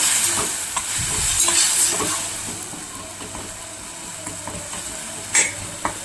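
Spiced masala with oil and a splash of water simmering and sizzling in a pan over a low gas flame, a steady soft hiss with faint bubbling and occasional small clinks, close and continuous.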